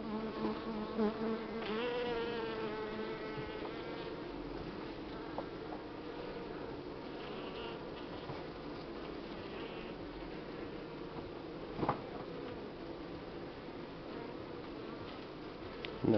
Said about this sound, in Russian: Это отводка, полный пчел и мед.